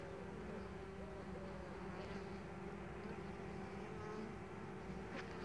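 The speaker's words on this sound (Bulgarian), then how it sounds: "Тук виждам една пчела се е набутала" Honeybees buzz faintly around frames during honey extraction, a thin, wavering drone of one or a few insects close by, steady over a quiet background.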